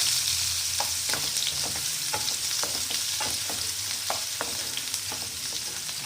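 Chopped onion and tomato sauté in a pan with a steady close sizzle, while a spoon scrapes and stirs in scattered taps throughout. No one speaks.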